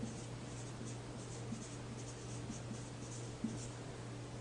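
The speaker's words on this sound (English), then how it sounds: "let's go ahead and write that down" Pen scratching steadily on paper while notes are written by hand, a soft continuous scribble over a low electrical hum, close and quiet with no talking.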